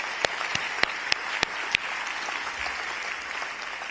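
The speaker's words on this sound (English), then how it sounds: "So let's have another round of applause," An audience at the Ockham New Zealand Book Awards ceremony applauds steadily for the readers, a soft, even wash of clapping with a few sharper nearby claps standing out early on.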